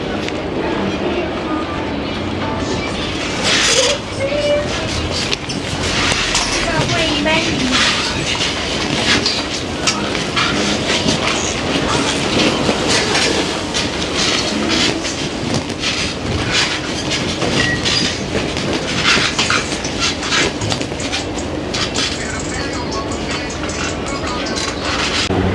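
A train passes on rails, a loud, continuous rumble with a rhythmic clickety-clack of wheels over the joints that holds steady for the whole stretch.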